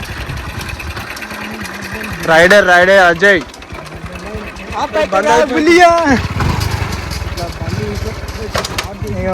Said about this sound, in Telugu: స్టార్ట్ అవుతుంది ఫ్రెండ్స్ బండి.